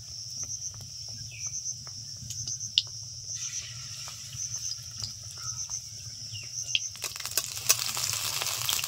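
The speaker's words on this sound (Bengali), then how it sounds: "মিডিয়াম আছে আস্তে আস্তে এই কাঁচা আলুর চপগুলো ভেজে নিতে হবে" Raw potato chops fry in oil over medium heat, giving a steady high-pitched sizzle with light crackles that grow busier and denser near the end.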